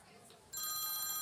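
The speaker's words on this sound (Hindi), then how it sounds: "वह फोन किसका बज रहा है ये?" A telephone starts ringing partway through with a bright, steady electronic trill over a quiet indoor background.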